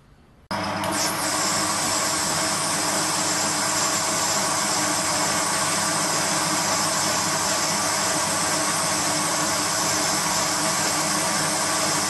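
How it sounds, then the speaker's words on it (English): Steady, loud whirring drone of an old metal lathe cutting, beginning abruptly after a brief quiet moment and holding an even, continuous roar close by without voices. "the old lathe's doing a good job"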